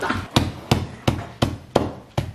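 Two Oreo cookies in a bag are pounded with a hammer, six or seven sharp, heavy blows at a steady pace about every third of a second, loud and close, with a crunchy thud on each strike.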